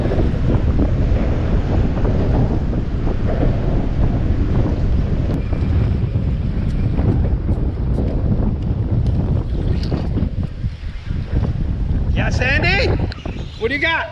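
Strong wind buffets the microphone on a saltwater fishing boat at sea, a loud continuous roar with rushing water and waves beneath it. Voices are heard briefly near the end.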